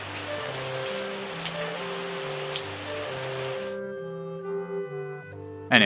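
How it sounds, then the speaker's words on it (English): Rain pours in Wine Making Tycoon Simulator's Vanilla Hills vineyard, a steady loud hiss under a gentle stepping melody, cutting off partway as the music carries on alone before a sharp sound closes. "boy oh boy, talk about a rainy year we're having so far."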